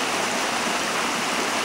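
River water rushes steadily through a gorge, a continuous broadband roar of flowing water, close and even throughout with no voices.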